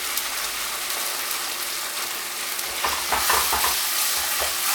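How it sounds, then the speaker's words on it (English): Thai Panang curry paste with lemongrass, galangal, ginger and chilies sizzles in a hot pan, a steady close frying hiss that grows louder and busier toward the end, with no talking. "fry it, you kind of release all that really nice fragrance of the lemongrass, galangal, ginger, the chilies."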